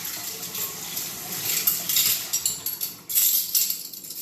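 Soapy water sloshing and trickling in a kitchen sink during cake baking, with light clinks of dishes and utensils, steady and close with no talking.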